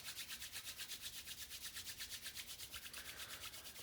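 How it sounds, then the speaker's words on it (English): Palms of the hands rubbed firmly together during a meditation, a steady rhythmic swishing friction with about five strokes per second, close and fairly quiet, with no talking. "Rub the palms together and generate some heat between the hands."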